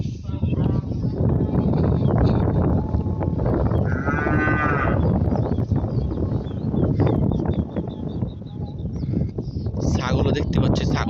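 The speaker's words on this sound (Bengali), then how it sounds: "ছাগলও দেখতে পাচ্ছি, ছাগলও কিন্তু আছে দেখেন।" Goats and cattle in a village cowshed, with a single short bleat rising over dense, close talking as people speak throughout.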